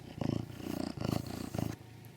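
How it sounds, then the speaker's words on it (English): A cat purrs close by in steady rhythmic pulses, about four low rumbling breaths, continuous and fairly quiet, then stopping near the end. "you're a purring machine"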